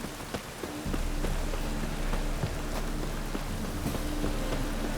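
Steady rain in The Witcher 3 patters continuously as a constant hiss with scattered drop taps, and soft background tones underneath; no speech.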